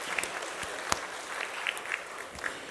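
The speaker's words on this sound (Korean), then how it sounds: "여러분, 우리 박수로 많이 축하해 주셨으면 좋겠습니다" A church congregation applauds to congratulate an engaged young man, a steady patter of many hands with a few distinct claps popping out, moderately loud and continuous, no voices over it.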